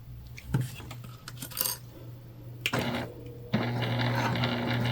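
A sewing machine top stitching a vinyl and canvas Candy Bag starts with scattered clicks and light clatter, then settles into a steady, moderately loud mechanical hum that runs to the end.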